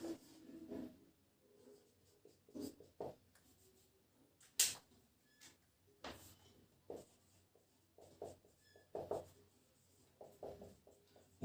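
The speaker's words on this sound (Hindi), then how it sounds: "मैंने यह लिख दिया" Marker or chalk writing on a classroom board during an English grammar lesson, with repeated short scratchy strokes and taps in separate bursts, fairly close and clear, without talk.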